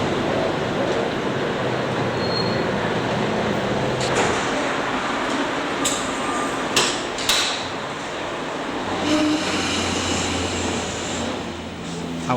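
A train rumbles in along a platform with a broad steady roar, a few sharp metallic clanks and hisses partway through, and some faint background chatter.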